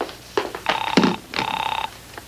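A telephone rings in two long electronic trill bursts, clear and fairly close, with a brief thump between them and quiet around.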